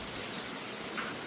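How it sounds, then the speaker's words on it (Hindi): Heavy monsoon rain pouring down outside during a stormy day, a dense continuous hiss of drops with no letup and no voices. "इतनी बारिश हो रही है"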